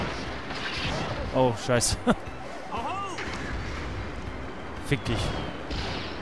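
Cannon blasts in the video game Spyro: A Hero's Tail, a few sharp booming shots scattered among game effects while someone talks over them.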